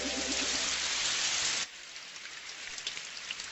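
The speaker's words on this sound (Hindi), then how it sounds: "अरे बारिश" Rain falls in a Hindi-dubbed Doraemon cartoon scene, first as a loud, dense rushing downpour, then dropping abruptly to a softer, sparser patter of drops.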